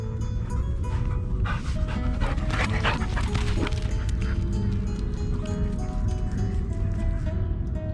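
A pet puppy dog recovering from a sore paw makes excited noises in an outdoor village setting, with continuous broadband background sound throughout and no clear separate barks standing out.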